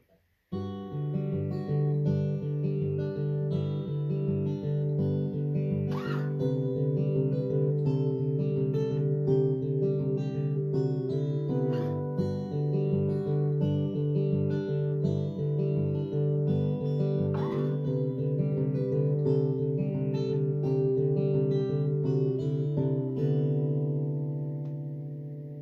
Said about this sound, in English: I'll play that last segment real slow for you.